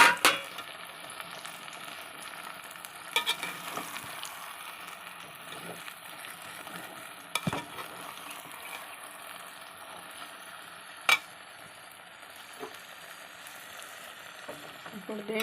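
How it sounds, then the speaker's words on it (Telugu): Eggplants being added to masala frying in a pan, a steady soft sizzle broken by occasional louder knocks and scrapes of stirring. "మనం ముందుగా వేసుకున్న ఈ వంకాయలన్నీ దీంట్లో వేసేయాలండి"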